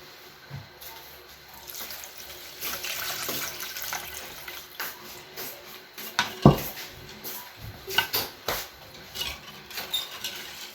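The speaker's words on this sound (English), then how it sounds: "Let's add some water." Water is poured into a pancake batter mixture, with a trickle and splashes that grow louder near the end, mixed with clinks of a bowl and utensils.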